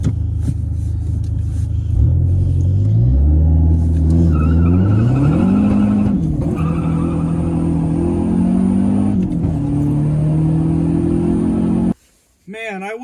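A Dodge SRT-4 engine revs loudly and steadily, its pitch climbing in stepped surges as the car accelerates through gears, then the sound cuts off abruptly near the end.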